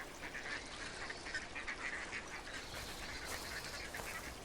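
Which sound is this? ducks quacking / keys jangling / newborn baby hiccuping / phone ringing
ducks quacking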